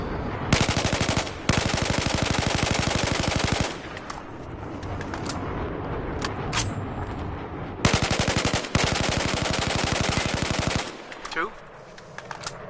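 Carbine rifle in Battlefield 4 fired on full-auto at a shooting range: two long sustained bursts of rapid gunfire, loud and close, separated by a stretch of quieter shots and clatter.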